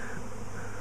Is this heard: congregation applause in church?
no